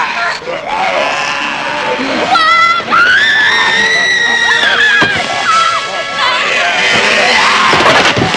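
A woman screams in a Filipino drama film, a long high sustained shriek rising over a loud, busy background of voices and music, with other yells around it.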